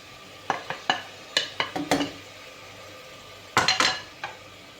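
Tomatoes and garlic cooking in a pot, heard as a series of sharp spoon scrapes and clinks against the pot over a faint sizzle, with irregular clusters of strokes and no talking.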